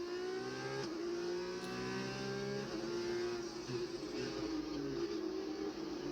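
An F1 race car engine screams in a racing video game, shrill revs climbing and dropping with quick gear shifts, loud and continuous throughout.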